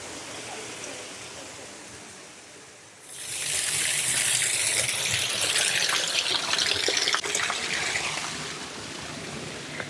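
A waterfall in Madeira's Monte Palace Tropical Gardens starts faintly, then surges into a loud, steady rushing roar that fills the rest of the scene.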